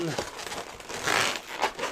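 A latex 260Q balloon bow is pulled and wrapped into a Christmas hoop design, giving soft rubbery squeaks and crinkling rubs in quick bursts, close by, under a voice talking.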